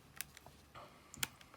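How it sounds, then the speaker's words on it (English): Numbers being keyed into a calculator, giving a few quiet, sparse clicks and taps with pauses between them and no talking. "I'll type this into my calculator."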